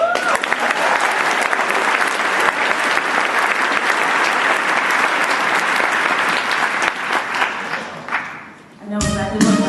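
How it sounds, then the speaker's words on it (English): Broadway concert audience giving a warm, loud, sustained round of applause for a singer, dense clapping with some crowd noise that fades out near the end before music or sound cuts in. "let's have a warm round of applause for Ms."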